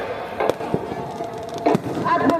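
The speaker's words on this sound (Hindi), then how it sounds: "ये पटाखे, ये आतिशबाजियां" Fireworks and firecrackers burst at a Ravan Dahan celebration at Gandhi Maidan in Patna, with sharp pops and bangs scattered over a loud crowd and someone speaking throughout.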